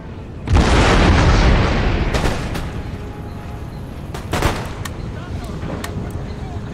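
Cannon and musket volleys boom in an Empire: Total War battle: a loud, sustained roar of gunfire, then a second sharp burst of shots with scattered cracks trailing off into rumbling battle noise.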